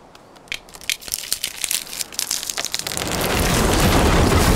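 Crushing, crackling crash of a tree falling onto a man, staged for a dramatic acting scene: scattered snaps and crackles building into a loud, dense roar that swells and holds to the end.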